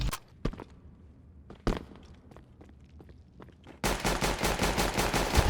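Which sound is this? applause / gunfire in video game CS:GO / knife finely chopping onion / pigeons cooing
gunfire in video game CS:GO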